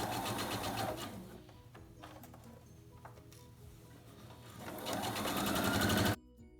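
A sewing machine stitching pillow fabric, its rapid mechanical needle chatter running in close bursts that slow mid-way, then speed up again before cutting off abruptly.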